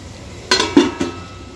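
A lid is set down on a pan of sautéed vermicelli upma with vegetables, making three quick metallic clinks and clatters in close succession, close and fairly loud, with no talking.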